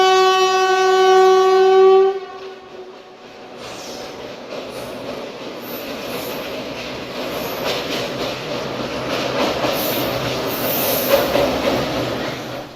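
The Kochuveli–Lokmanya Tilak Express crossing an old British-built 1906 railway bridge with laterite stone pillars over the Karyangode river: a loud horn blast of about two seconds, then a sustained close rumble with wheel squeal as the train rolls across.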